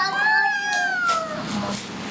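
A cat lets out one long, close, loud meow that slides slowly downward and fades into a softer, breathy tail.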